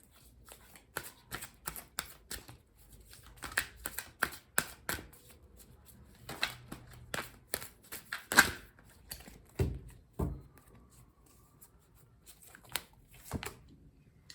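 Energy oracle cards are shuffled and handled during a pick-a-card reading. Soft, scattered riffles and light taps come in irregular clusters, quiet and close, with no voices.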